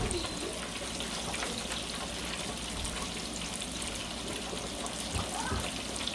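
Vinegar escovitch dressing with onions is poured on top of fried fish for Jamaican escovitch fish, producing a steady, close trickling wash of liquid with no break.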